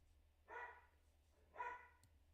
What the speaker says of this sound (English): Sorry if you can hear my crazy ass dog.